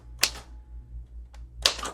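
A 1948 Royal Quiet DeLuxe manual typewriter with paper loaded: a few sharp, close key strikes spaced unevenly, with quiet gaps and a low steady hum beneath.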